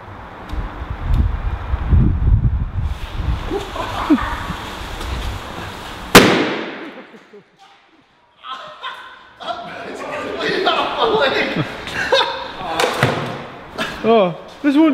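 A rook scarer banger blows up a cheap crash helmet with one sudden loud bang near the middle, followed by a brief quiet and then people talking and laughing close by.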